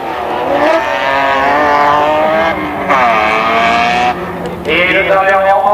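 A BMW-engined rallycross car races hard on its final lap at a French rallycross event, the engine loud and close, revving steadily with brief lifts between gear changes, while a commentator talks over it.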